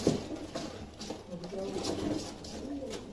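Female pigeon cooing nearby in soft, low, throaty phrases, with someone talking over the birds.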